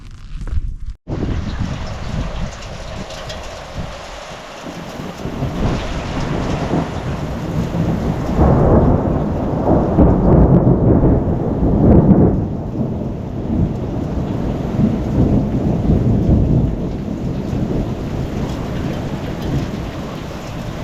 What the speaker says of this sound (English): Scared of a little bit of thunder?